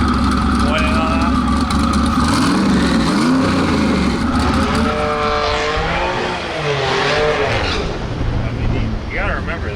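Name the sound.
turbocharged race car engine revving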